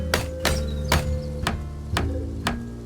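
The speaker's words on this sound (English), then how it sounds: "Hammer in hand, I built walls" Hammer blows ring out in Project Zomboid as walls are built, six sharp evenly spaced strikes about half a second apart, each a crisp tap over a low steady background drone.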